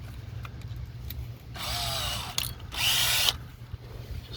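A battery power drill bores into a broken stud on a 1998 Acura Integra with two whining bursts, the second louder and steadier, separated by short pauses and a low background hum.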